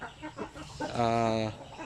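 Native chickens, Sampin and Basilan breeds, clucking close by with a drawn-out hen call mid-clip, heard under someone talking.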